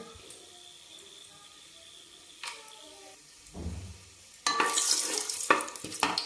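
A green paste of ginger, garlic, coriander and green chili hits a hot pan with whole spices, bursting into loud close sizzling after quiet stirring and clinking of a utensil.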